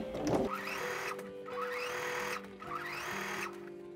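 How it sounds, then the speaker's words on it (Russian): A domestic sewing machine runs a long-stitch gathering seam around a child's dress, its whirring motor rising and falling in three short bursts, close and moderately loud, with no speech. "И прокладываю строчку по всему кругу."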